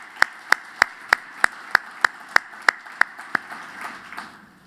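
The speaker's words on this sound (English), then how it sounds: "Let's give another round of applause to our Secretary." An audience at a training event claps in slow, even unison, about three crisp, fairly close claps per second. The beat then loosens into scattered, quieter applause that trails off, with no voices over it.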